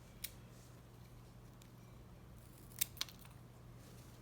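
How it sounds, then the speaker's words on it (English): Scissors snipping a salvia stem for a cutting, a few sharp faint clicks spread over a quiet hum, the clearest pair of snips close together near the end. "So I'm gonna snip it."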